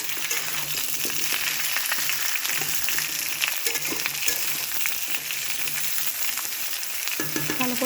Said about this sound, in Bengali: আলু আর বেগুনটা ভালো করে ভাজা ভাজা করে নিতে হবে নেড়ে।